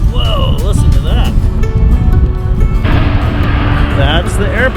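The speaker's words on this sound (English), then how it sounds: "That's the airplane." A big airplane roars loudly and steadily at an airport beside toy construction trucks working in dirt and sand, a broad rumbling wash that stays strong throughout while people talk over it.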